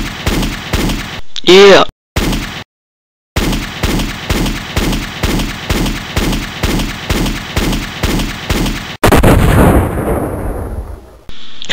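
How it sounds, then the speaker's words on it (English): Gunfire in the Halo video game, with a long run of evenly spaced, loud, heavy shots followed by a big booming blast, and a brief voice near the start. "I'm gonna shoot you, man."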